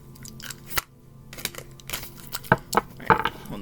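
A deck of cards is shuffled and flipped through by hand, giving a string of crisp, close, papery riffles and snaps that grow busier and louder toward the end.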